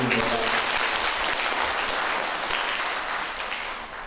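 Dense, steady applause from a crowd at a Palm Sunday gathering in Straja commune, loud and continuous for several seconds, fading slightly at the end, with faint voices underneath.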